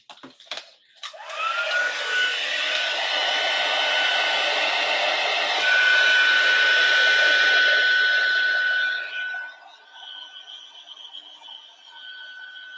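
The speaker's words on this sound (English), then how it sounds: "So we'll heat emboss those again." A heat gun heat embossing a stamped card sounds as a loud, steady blowing whoosh with a faint whine that starts after a click, holds for about eight seconds, then cuts off to quieter room noise.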